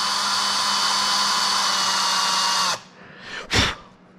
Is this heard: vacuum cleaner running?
yes